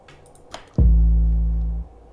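A single deep 808 bass note from a hip-hop beat booms in after a couple of faint clicks, sustaining loudly for about a second before stopping abruptly.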